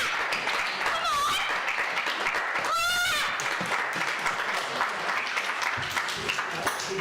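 A crowd at a Purim function claps amid a noisy room, scattered hand claps under a busy backdrop with a couple of rising, wavering voice-like cries, and some talking mixed in.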